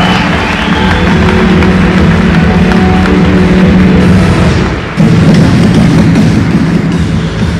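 Loud, sustained applause fills a convention hall for a cosplayer dressed as Saber at Vienna Comic-Con's anime and manga costume contest, a dense roar of clapping with a brief dip near the five-second mark before surging again.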